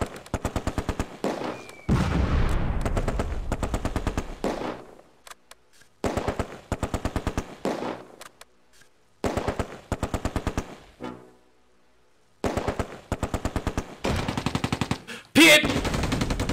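Rapid machine gun bursts ring out in the WWII game Close Combat: A Bridge Too Far, several loud, sharp rattling volleys of a few seconds each, separated by short near-silent pauses.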